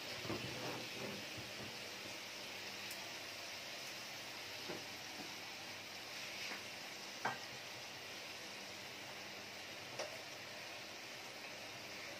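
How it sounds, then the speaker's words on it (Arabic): Sausages sizzle in a pan with a steady hiss and soft crackle, broken by a few sharp clicks and scrapes as they are turned, with no one talking. "حريصين جدا واحنا بنقلب علشان خاطر السجق ما يتفتحش مننا"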